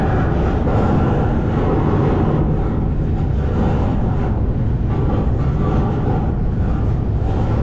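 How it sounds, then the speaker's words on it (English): A loud, steady rumble of a CSX freight train pulling out, continuous heavy rolling noise with no pauses, close by and filling the whole clip. "our train's coming out"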